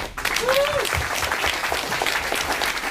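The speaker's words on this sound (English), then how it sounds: "Give her another round of applause, please" An audience applauds after a presentation on being your own broadcaster, producing a steady, dense burst of clapping throughout with no talk over it.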